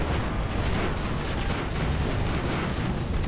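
Cannons aboard airships fire in the strategy game Airships: Conquer the Skies, a dense, continuous roar of overlapping booms and blasts that holds steady and loud throughout.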